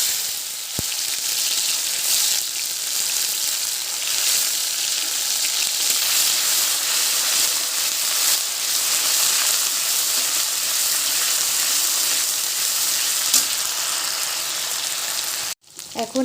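Onion paste and green chili paste frying in a hot pan, a loud, steady hissing sizzle that runs continuously and ends with a brief clatter near the end.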